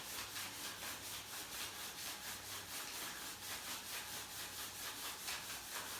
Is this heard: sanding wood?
yes